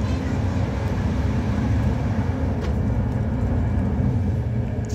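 A passenger train rides along in the early morning at sunrise, with a steady, loud rolling rumble and hum that holds evenly from start to finish.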